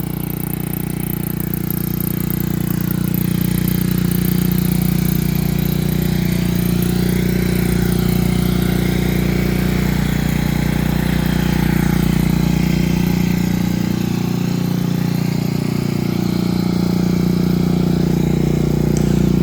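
A Honda Elite CH80 scooter engine idles steadily, loud and close, with a constant low droning hum and slight wavering in pitch for the whole stretch, no talk.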